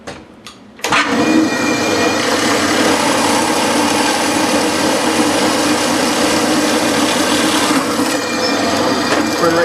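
A milling machine cuts through a clamped workpiece held against a backup block on a tabletop, its loud steady rumble starting abruptly after a brief quiet moment and grinding on continuously, close and dense throughout.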